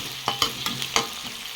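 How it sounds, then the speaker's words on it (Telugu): Onions frying in a pan in a village home kitchen, stirred with a few sharp scraping clacks over a steady soft sizzle, close and fairly quiet. "ఆనియన్స్ ఫ్రై అయ్యో లేదో మళ్ళీ ఒకసారి తిప్పేసుకొని చూసుకుందాం"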